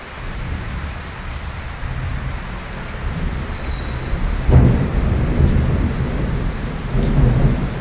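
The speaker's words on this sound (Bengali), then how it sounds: "পুরো অন্ধকার, মেঘ ডাকছে, পাথরও পড়ছে," Heavy rain with small hailstones pours steadily while low thunder rumbles and swells midway, with the downpour continuing loud and close throughout, in Bangalore.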